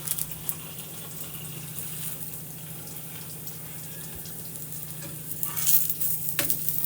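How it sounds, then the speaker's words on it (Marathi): A fenugreek-leaf flatbread brushed with oil on both sides roasts in a pan, giving a faint, steady low sizzle with a few soft scrapes and a brief splashy rustle near the end. "मी दोन्ही बाजूनी तेल लावलेलं आहे मस्त मस्त याला आता भाजून घ्यायचं आहे छानपैकी"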